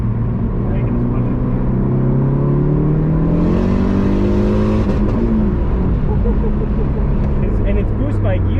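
A 500 HP turbocharged Saab 9-5 accelerates hard, its engine tone sweeping steadily upward through the revs, loud and close from inside the car, with people talking over it.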